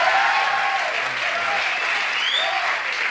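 A late-night TV studio audience claps for the show's musical director in a full, even wash of applause. A few faint tonal sounds sit beneath it.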